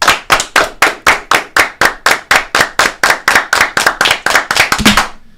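A single pair of hands claps about twenty times in a slow, even rhythm, each clap sharp, close and loud with a short gap between, ending with a faint voice.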